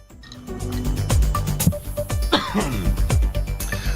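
Someone coughs and clears their throat repeatedly up close, a series of harsh rough bursts with brief pauses.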